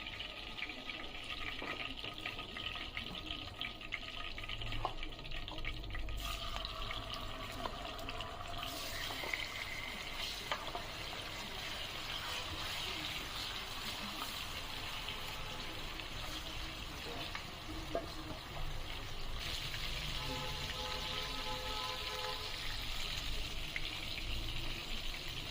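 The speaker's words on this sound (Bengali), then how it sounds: "আমি বাকি চিকেনগুলো ঠিক এইভাবে ভেজে নেব।" Chicken pieces fry in a pan, giving a steady, moderate sizzling hiss that runs throughout, with a voice coming through now and then.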